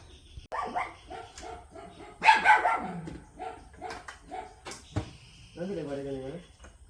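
A few sharp dog barks and a yip break in among people speaking, followed by a brief whimpering sound near the end.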